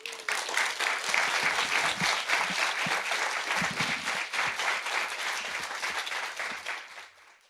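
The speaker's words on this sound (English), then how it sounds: "So please give them a warm applause." A symposium audience gives warm applause, a full sustained roar of many hands clapping that swells quickly, holds strong for several seconds, then thins and fades away at the end.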